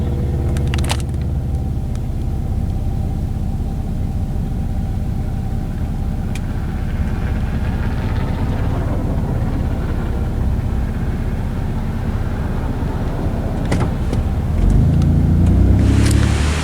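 Steady road traffic rumbles past as cars flow along a road, a continuous low, loud wash that swells near the end as a vehicle passes close, with no voices.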